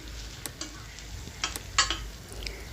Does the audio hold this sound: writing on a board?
no